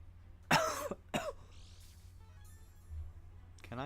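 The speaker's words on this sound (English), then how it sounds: "That was coughing." Two sharp coughs in quick succession from a nearby person, followed by quiet background hum and faint electronic game sounds.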